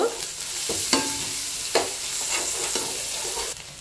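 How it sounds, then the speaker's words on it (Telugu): Onions with turmeric fry in oil, giving a constant close sizzle broken by several sharp scraping stirs of a spatula against the pan, with no voices. "ఆనియన్స్ కూడా బాగా ఫ్రై అయిపోయినాయి"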